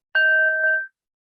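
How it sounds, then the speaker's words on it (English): A single bell struck once, a clear ringing tone up close that sustains briefly and is damped off under a second, alone in silence. "So I'm going to ring this bell."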